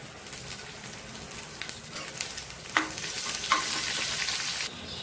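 Urad dal, cumin, dried red chili and shallots frying in hot oil for a tempering, a steady close sizzle with stirring scrapes and a few sharper crackles.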